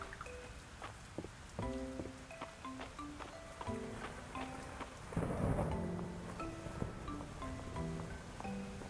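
Steady rain and rolling thunder from a stormy day in the farming game Fields of Mistria, a continuous wash of rainfall with a deep rumble swelling midway, layered under soft plucked game music notes.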